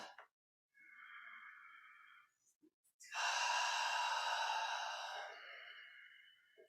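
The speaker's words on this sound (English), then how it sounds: "Take a breath." A person breathing during a gentle yoga session, with a soft inhale followed by a longer, louder exhale, close and alone without talk.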